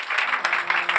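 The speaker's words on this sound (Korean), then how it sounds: "박수 한번 부탁드리겠습니다" An audience at a book concert applauds after a musical performance, a brief steady patter of many hands at moderate level.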